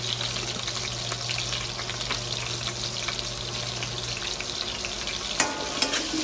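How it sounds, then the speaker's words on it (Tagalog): Potatoes frying in hot oil for a shrimp curry give a steady, close sizzle and crackle that runs throughout, with a low hum under the first four seconds and a few sharper pops near the end. "Iprito na po natin ito hanggang sa maluto."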